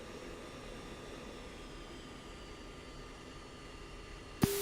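In the Falcon BMS flight simulator, an F-16 jet engine hums steadily as the aircraft taxis, a constant moderate drone with no speech, ending in a brief click near the end.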